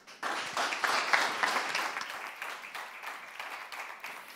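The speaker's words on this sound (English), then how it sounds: "A big applause for Paged." Audience applause for a startup team at the end of its pitch in a livestreamed competition finale, a steady dense clapping of moderate loudness that carries on for several seconds without fading out.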